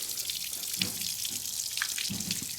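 Water gushing steadily from an engine's water pump outlet during maintenance, a continuous splashing flow with a few louder spurts, heard up close without speech.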